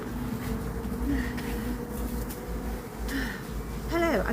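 Honey bees hum in a dense, steady buzz at a large hive kept by a beekeeper in Plymouth, UK, loud and close throughout, with a brief higher chirping sound near the end.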